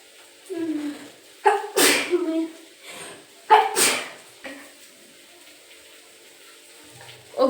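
Sneezing from chili fumes while cooking brinjal stir-fry with curry leaves in a home kitchen: two sharp, loud sneezes a couple of seconds apart, with quieter breathy vocal sounds between them.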